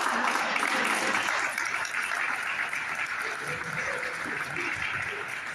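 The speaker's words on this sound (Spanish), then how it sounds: "Aplausos, por favor." Sustained applause from a crowd, a dense steady wash of clapping that fills the whole stretch at moderate loudness.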